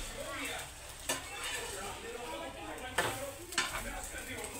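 Cheese bread omelette frying in a pan, a steady close sizzle broken by a few sharp scrapes of a utensil against the pan at irregular moments, with no speech.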